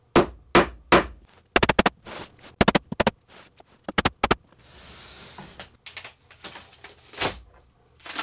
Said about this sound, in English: It wasn't too difficult to snap the sides of the mold.